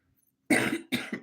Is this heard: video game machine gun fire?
no